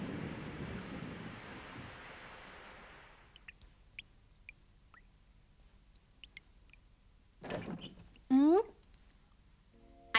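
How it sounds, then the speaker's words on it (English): Heavy cartoon rain pours as a steady hiss in the 90s Moomin animated series, then fades out. Sparse drips follow, and later a short rumble and a sharp rising tone, with a voice speaking. "It started raining!"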